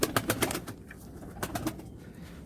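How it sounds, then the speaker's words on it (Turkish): Pigeons in a coop cooing, soft repeated calls mixed with short bursts of rustling and fluttering, moderately close and fairly quiet. "Ben de kümesindeki diğer güvercinleri göstereyim arkadaşlar."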